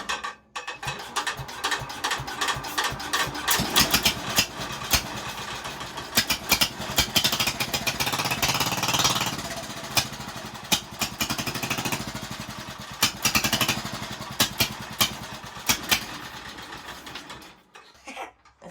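Tractor engine cranked and then running unevenly, a dense rattling, clattering mechanical roar that continues loud and close for most of the stretch before cutting off near the end.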